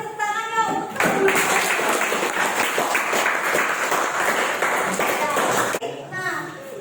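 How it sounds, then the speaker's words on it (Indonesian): Students in a classroom applaud their classmates, a burst of mixed clapping lasting several seconds between a teacher's spoken remarks. "Sekali lagi, beri tepuk tangannya untuk teman-teman"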